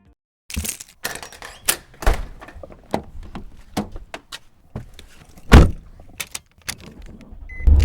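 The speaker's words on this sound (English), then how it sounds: "the actual sounds of me grabbing my keys off the rack and opening the house door" Keys jingle and clatter in scattered clicks as they are grabbed off a rack, followed by thuds and knocks as a house door is handled and opened close by.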